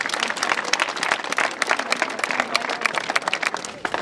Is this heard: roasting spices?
no